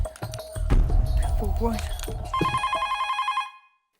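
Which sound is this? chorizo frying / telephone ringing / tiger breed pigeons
telephone ringing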